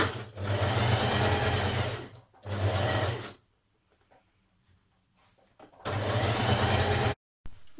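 A sewing machine stitching a neck facing onto a Burda 6223 dress at a 1.5 cm seam, three loud close bursts of rapid whirring with a quiet gap between them and no voice.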